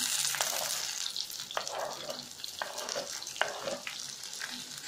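Sliced onions with curry leaves sautéing in a pan: a soft, busy frying crackle under a few distinct spatula scrapes at regular intervals, close and moderately quiet, without talk.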